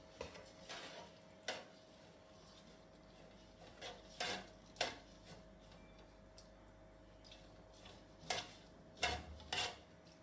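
Cooked rice being lightly mixed with ghee in a pot for Anglo-Indian coconut rice, giving soft scrapes and scattered spoon-on-metal clinks, a few louder knocks standing out from a quiet background.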